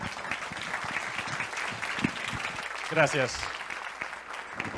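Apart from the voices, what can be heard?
audience applause welcoming speaker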